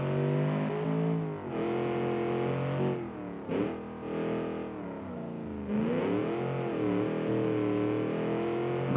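A Kiev Motors 12 car in the BeamNG driving game accelerates hard, its engine note climbing through several gear changes with rising harmonic whine, loud and continuous with brief dips between shifts.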